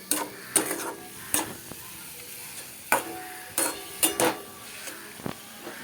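Green chilies frying in a pan for a Bengali recipe, with a few brief scraping stirs and clinks of a utensil against the pan over a light, quiet sizzle, no talking.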